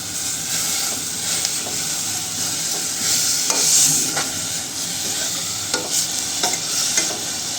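Whole spices sizzle in a pan: a bay leaf, two cardamom pods and two pieces of cinnamon. A loud, continuous hiss with crackle and occasional scraping stir sounds runs unbroken, with no voices.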